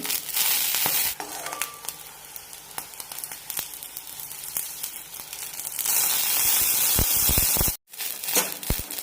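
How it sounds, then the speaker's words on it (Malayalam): Garlic frying in a pan for sesame chutney gives a close, steady sizzle, with occasional scraping and stirring noises and a brief break near the end. No one speaks. "വെളുത്തുള്ളി നന്നായി വഴന്ന് ഒന്ന് ചുരുങ്ങി കിട്ടണം"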